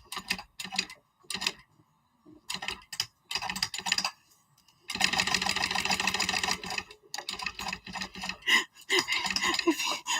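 A sewing machine double-stitches a backpack strap, running in short stop-start bursts of rapid clatter up close, then one longer continuous run.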